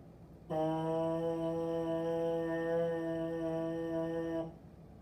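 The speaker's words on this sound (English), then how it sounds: "try that free buzz that we just did on your mouthpiece" A steady free buzz on a trombone mouthpiece holds one clear pitch for about four seconds, starting and stopping cleanly, close and alone.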